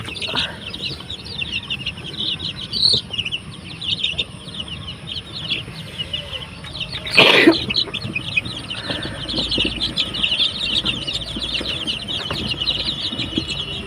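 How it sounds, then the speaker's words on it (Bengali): Broiler chicks on a poultry farm cluck and peep in a steady chorus, with a brief louder flutter of wings partway through and no talk. "এই যে ফার্মে মুরগির বাচ্চা"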